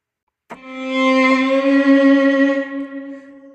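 A single sustained bowed-string note from a virtual violin instrument, with rich harmonics, entering suddenly and holding steady for about three seconds before fading slightly.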